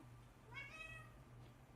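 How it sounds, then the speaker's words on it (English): A house cat lets out a single drawn-out, rising and falling meow, close and clear over a low steady room hum, with no speech. "Kitty cat making noises."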